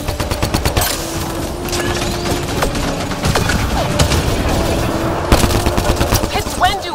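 Rapid, dense gunfire in the video game Mass Effect Andromeda rattles continuously in sharp bursts with scattered impacts, and faint voices are mixed in.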